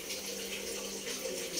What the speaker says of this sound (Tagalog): at lagyan na natin ng gata